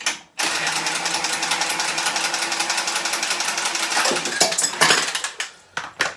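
A plumbing flow pipe being cut during a combi boiler swap, with a steady, loud, rapid rasping that runs for several seconds and then ends in a few scattered clatters.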